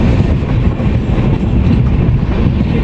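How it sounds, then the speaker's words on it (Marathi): Mandovi Express passenger train (10103, Mumbai to Madgaon) nearing Mangaon station, heard from on board as a loud, close, continuous rumble and rattle with no pauses. "आता ट्रेन थांबणार आहे."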